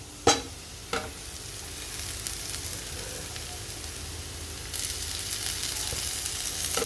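Cut ginger and chili frying in a pan for mushroom kulambu, opening with a couple of sharp clinks and then a steady sizzle that grows brighter partway through, no talking.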